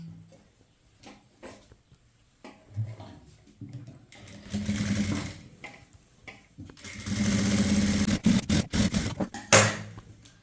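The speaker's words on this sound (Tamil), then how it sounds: "இந்த யாக் பட்டிக்கு மேலே ஒரு தையல் போடலாம்" A sewing machine stitches a band on a blouse yoke in several bursts of rapid mechanical whirring, building to a long loud run near the end with brief pauses and handling clicks between.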